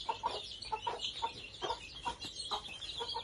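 Desi country chickens clucking in short, repeated bursts at a steady rhythm, faint and somewhat distant, with no talking.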